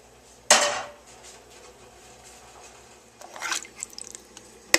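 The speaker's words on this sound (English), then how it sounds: "And then put the frying pan back on the stove." Metal frying pan set back down on a stovetop while making beef stew: one sharp clanking knock, followed a few seconds later by a cluster of lighter scraping and clattering sounds in a quiet kitchen.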